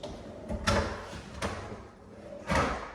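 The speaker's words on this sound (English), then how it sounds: "And then also the pull-out drawers." Pull-out drawers in a home sliding open and shut, three separate soft rolling thumps spaced about a second apart, close by and fairly quiet, with no speech.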